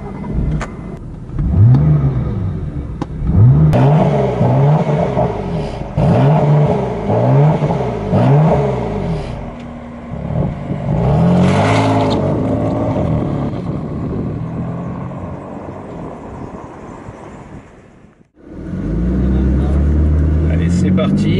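BMW M3 engine revving and accelerating hard through the gears on a lap of Portimao circuit in Portugal, loud and close, with repeated rising pulls, then a brief cut before it resumes, with a voice talking over it.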